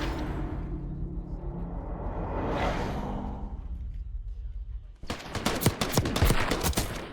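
Rapid automatic gunfire from a Call of Duty league match erupts in a dense burst of sharp cracks after several seconds of muffled rumbling game ambience, loud and close.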